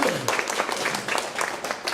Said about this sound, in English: Fantastic. Clap for Anjali